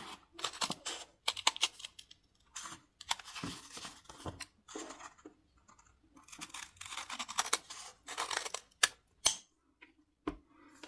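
Scissors trim small pieces from crocheted plastic canvas for a sunglasses case, making close, irregular crisp snips and scratchy rustles with short pauses between cuts.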